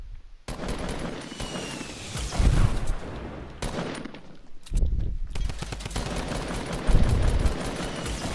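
Gunfire in Fortnite, a Season 5 match, with dense loud bursts of rapid automatic shots and heavier booming blasts repeating throughout, up close and without pause.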